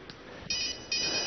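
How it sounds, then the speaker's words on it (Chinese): Telephone ringtone for an incoming call, two short bright electronic rings in quick succession, moderately loud over a faint background. "哎呀妈，还来电话了你？"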